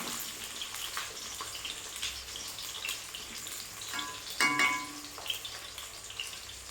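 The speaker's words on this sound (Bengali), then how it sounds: "আলুগুলো লাল লাল করে ভেজে নেব" Potatoes frying in hot oil in a pan, browning to a reddish colour, give a steady soft sizzle throughout, with a few brief louder crackles and scrapes of stirring near the middle and no talking.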